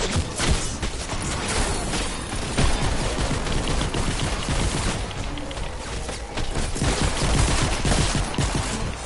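Rapid video-game gunfire from a pistol in Fortnite, a dense unbroken volley of sharp shots lasting throughout, loud and close with no pause.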